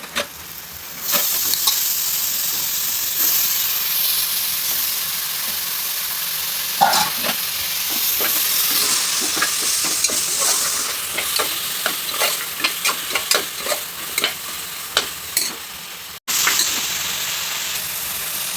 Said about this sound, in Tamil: இப்போ அரை கிலோ மட்டன் கழுவி சுத்தம் பண்ணி எடுத்துட்டு போட்டுக்கலாம்